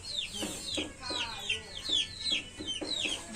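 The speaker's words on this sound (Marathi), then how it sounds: "कोंबडी कोंबडी आहे" A hen clucks repeatedly in short, close bursts, with soft murmuring in the background.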